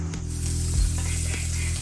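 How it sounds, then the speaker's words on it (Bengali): Fish curry broth for a Rajbanshi-style danga fish jhol simmers and bubbles in a pan, a steady close sizzling hiss with a couple of soft pops, no talking. "ঝোলগুলো থকবকি হচ্ছে"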